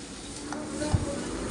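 Ginger-garlic paste and ground spices fry in a pan, giving a steady close sizzle with a couple of soft stirring scrapes and one brief low knock.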